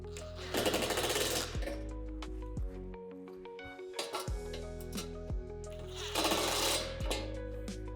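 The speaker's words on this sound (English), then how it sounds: "To make tightening this hardware easier, I like to use a Phillips head bit and a pair of vice grips." Shed hardware on a Lifetime outdoor storage shed is tightened with a Phillips head bit and vice grips, close and fairly loud: two bursts of rapid whirring from a power driver with metallic clicks and clanks between them.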